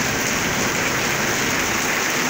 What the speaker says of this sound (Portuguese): Olha essa chuvinha boa, viu?